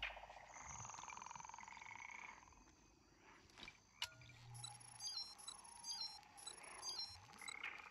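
Frogs croak in the ZombiU video game, a continuous chorus under ambient game sounds, with a sharp click and tick-like tones in the second half; no talking.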